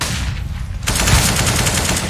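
Rapid gunfire in a competitive match of the video game CS:GO, with a burst of automatic weapon fire starting abruptly after a moment of quieter noise and continuing steadily and loudly.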